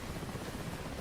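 A Mi-8 helicopter in the DCS World flight game drones with a steady, dense rotor and engine roar, even and continuous, close and fairly quiet, with no voices.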